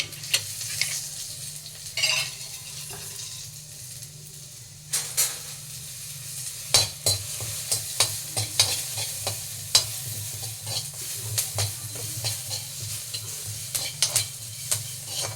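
Fennel seeds, cumin and curry leaves roast in a pan for prawn pepper masala, a low sizzle under repeated sharp scraping and stirring strokes that grow more frequent toward the end.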